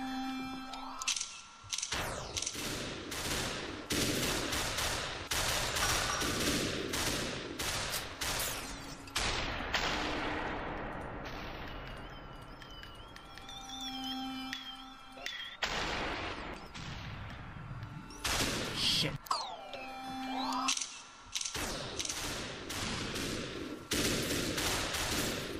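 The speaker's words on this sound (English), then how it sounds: "Oh, I almost avoided those bullets." Rapid gunfire in a video game comes in dense bursts of sharp shots separated by quieter stretches of electronic tones and whooshes, all at a moderate level.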